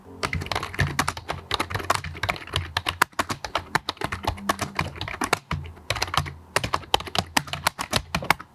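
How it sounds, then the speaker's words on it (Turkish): Rapid typing on a Razer Ornata V3 X membrane gaming keyboard, a dense stream of soft clicky keystrokes close to the microphone, with occasional brief pauses. "Hatta çok kısa bir klavyenin çıkardığı sesi bir size göstereyim."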